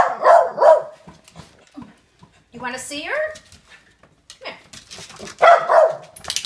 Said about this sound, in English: It's another little puppy.